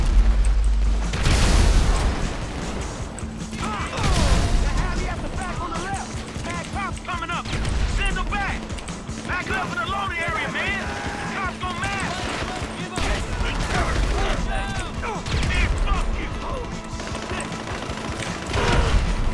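Grenade launcher fire in GTA 5 during an armored car heist, a few heavy booming launches and blasts mixed with gunfire, with someone talking throughout.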